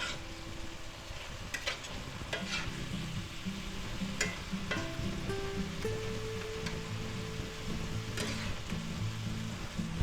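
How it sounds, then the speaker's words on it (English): A beef and mixed vegetable stir-fry with mushrooms sizzles hard in a pan as added wine cooks off, a dense continuous frying hiss with sharp crackles and occasional stirring clanks, close and loud throughout. "let's go ahead and add the rest of our wine in there. And we'll cook that until the wine is just about cooked off"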